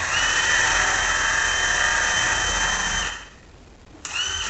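A power drill with a hole saw whines loudly and steadily, cutting into plywood, then stops briefly before spinning up again.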